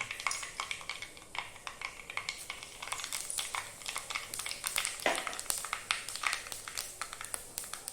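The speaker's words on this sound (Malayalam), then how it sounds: "കടുക് ഒന്ന് പൊട്ടി വരട്ടെ." Mustard seeds crackle and spit in hot oil at the start of a fish roast: dense, rapid pops and snaps scatter across the whole stretch, close and fairly steady, with no voices.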